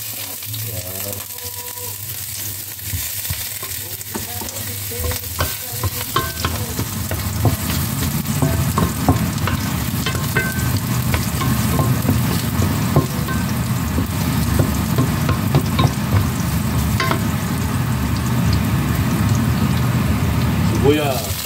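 Garlic frying in oil in a pan for squid adobo, starting quietly and then building into a loud, steady sizzle with scattered stirring clicks. A voice speaks briefly near the beginning.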